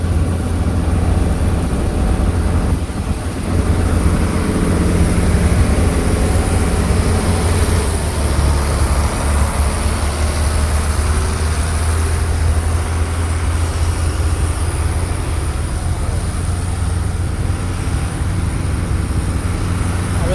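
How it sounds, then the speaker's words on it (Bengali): A trawler at a river ferry ghat passes with a loud, steady low engine drone that holds throughout, churning broadband noise layered over the throb, no voices. "আর ওই যে ট্রলার ওটা চলে যাচ্ছে"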